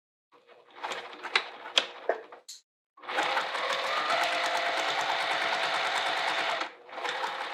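A sewing machine top-stitches along a wallet edge, first in a few short bursts, then in a long, fast, steady run of needle strokes, close and loud, before a brief pause and another run.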